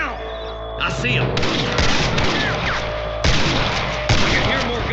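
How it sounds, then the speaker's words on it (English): Gunfire crackles in a Western shootout in the video game Red Dead Redemption, several loud close shots and booms fired in irregular bursts amid ambient outdoor noise. "I can hear more gunshots."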